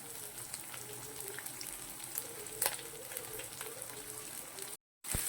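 Chopped cabbage and capsicum sauté in a pan with a soft continuous sizzle and a few faint stirring clicks, close but quiet, with no talk and a brief dropout near the end.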